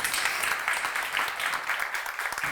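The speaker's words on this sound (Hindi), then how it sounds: "उसके लिए जोरदार तालियां" Audience applause for a woman farmer at a televised women's empowerment event, a dense steady wash of clapping that carries on without a break and without talk.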